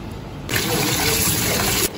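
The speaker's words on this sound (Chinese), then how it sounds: "把切好的大油啊，咱们去清洗一下" Running water pours steadily from a tap over cut pork fat (lard) being washed in a kitchen, a close, loud gush with a brief surge in the middle.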